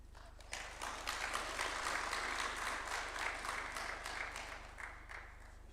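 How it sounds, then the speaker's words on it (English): An audience applauds at a State House event in Nairobi, a steady wash of many hands clapping that starts abruptly and holds at an even level throughout, with a faint low hum beneath. "Another round of applause, please, for her."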